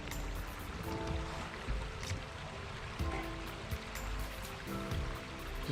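A rain-fed stream pours out from under a tree in wet woodland, a steady, close, broadband rush of flowing water with scattered droplet patter and no voices.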